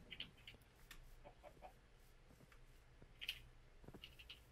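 Minecraft chickens clucking in a few short, faint, high chirps spread across a quiet game scene.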